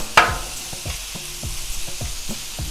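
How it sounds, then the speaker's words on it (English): Beef searing in tallow on a Blackstone griddle, a steady close sizzle opened by a sharp clank, with soft scraping strokes at a regular rhythm. "Now we're just going to let it sear."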